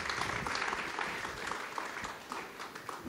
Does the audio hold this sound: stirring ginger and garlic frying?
no